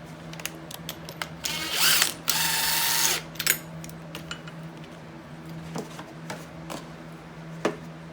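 A McPherson strut spring compressor is ratcheted tight on a 2010 Dodge Caliber rear strut spring, giving two close bursts of loud ratcheting followed by scattered light metallic clicks and taps in a quiet garage.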